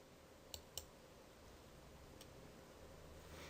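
Two quick mouse clicks on a computer, close and crisp, with a third faint click a moment later against a quiet hiss, while an oscilloscope streaming capture is stopped.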